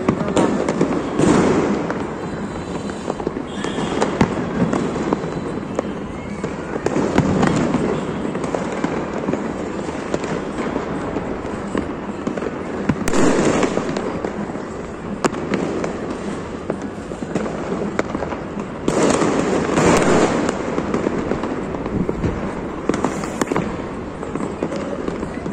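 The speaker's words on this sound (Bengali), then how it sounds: "এই যে আতশবাজি" New Year fireworks bursting over a neighborhood, a near-continuous crackle of loud pops and booms with denser bursts every few seconds, sustained throughout without voices.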